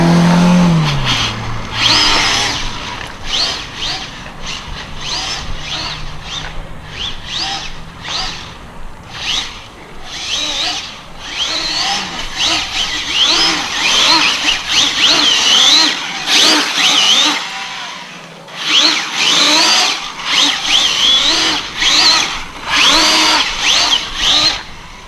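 An ARRMA Infraction RC car speeds along above 90 mph, its electric motor whining loud and steady with rising and falling pitch as it passes and accelerates.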